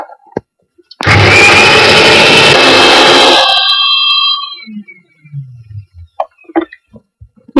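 A mixer grinder whirs loudly for about three seconds as it grinds cucumber seeds into a paste, then winds down, followed by faint clatter and brief murmurs.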